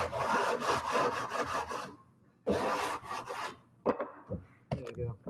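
Sanding block rubbed over wood while finishing a double-hung window repair: close, raspy back-and-forth strokes in bursts with short pauses, moderately quiet and alone.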